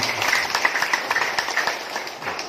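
A gathering at a village dialogue with the NTT governor, local officials and traditional leaders breaks into applause, a moderate burst of hand clapping from a modest crowd, fairly close and lasting a couple of seconds.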